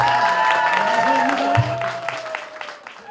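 A church congregation at a Christmas service applauds the choir conductor, a brief burst of clapping that tapers off, with a held musical tone and a speaking voice underneath.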